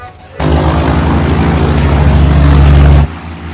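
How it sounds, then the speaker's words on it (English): Airplanes drone overhead in a war film, a loud, sustained low engine roar that swells in abruptly and holds for a few seconds before cutting off. "Airplanes? Airplanes! Airplanes!"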